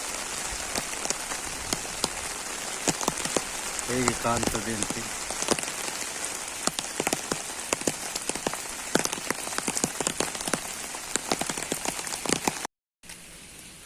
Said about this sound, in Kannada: ಮಳೆ ಬರುವ ಒಂದು ಸೀನರಿ ಸೂಪರ್ ಸೀನರಿ ನೋಡಿ